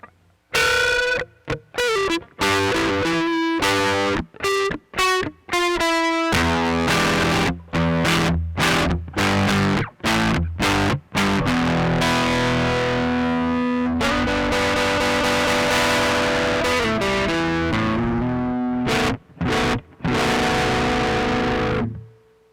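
Electric guitar with the coil tap engaged on pickup setting three, played loud and alone in a run of chords and short riffs broken by brief pauses, then a long ringing passage that fades out.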